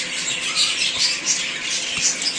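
Harsh bird squawks repeat every half second or so over a steady high chatter of more birds, fairly close and loud throughout.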